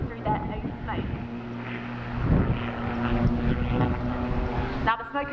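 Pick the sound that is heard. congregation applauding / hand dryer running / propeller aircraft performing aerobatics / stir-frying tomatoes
propeller aircraft performing aerobatics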